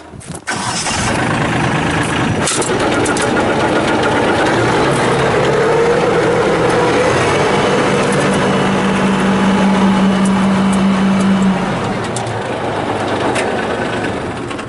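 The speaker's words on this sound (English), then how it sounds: "I'm going to start the tractor up and show you here that it engages and that the blower works" A 2017 Trac Vac 856 tractor engine starts with a sharp crank and runs loudly and steadily, with its vacuum blower's whirring hum layered over it before it eases slightly near the end.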